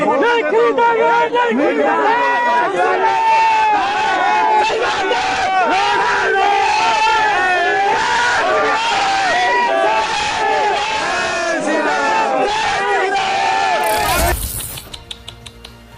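A dense crowd at a rally shouts and chants loudly and without pause, many voices roaring together until the noise cuts off abruptly near the end.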